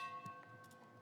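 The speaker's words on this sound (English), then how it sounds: "Toll the bell." A memorial bell tolls once at a 9/11 remembrance ceremony in Atlantic City; a faint, sustained ringing tone decays softly over a quiet outdoor background.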